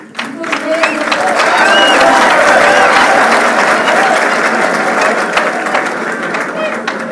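A large audience claps loudly and steadily in a university lecture hall, dense applause sustained throughout with voices mixed into the crowd noise.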